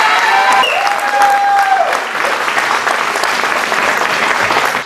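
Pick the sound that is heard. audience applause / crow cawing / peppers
audience applause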